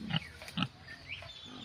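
A pig at a pig farm gives a few short grunts and squeals, faint and close, with quiet gaps between them.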